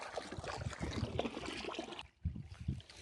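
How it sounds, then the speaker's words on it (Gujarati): Irrigation water trickling and gurgling steadily through a channel in a farm field, close and fairly quiet, with a brief lull near the end. "તો બસ આટ આટલું જવા દઈશું પાણી"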